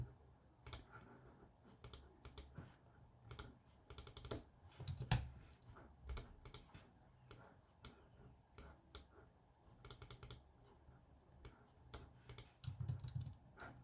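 Quiet, irregular clicking of keys on a computer keyboard, in short bursts and pauses, close by in an otherwise still room.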